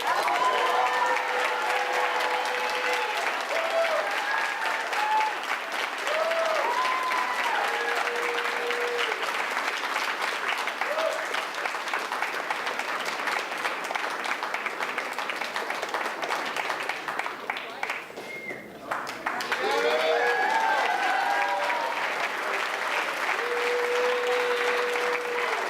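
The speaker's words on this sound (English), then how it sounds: "Let's give one more round of applause to all our award recipients." Sustained audience applause fills an 8th grade graduation ceremony at an academy, dense steady clapping from a large crowd with a short dip in the middle, while voices speak over it.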